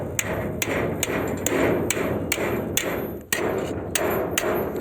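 Metal is hammered on a makeshift anvil while building an extender for a truck crane, with loud, close, evenly spaced blows, about a dozen of them, ringing over a constant noisy background.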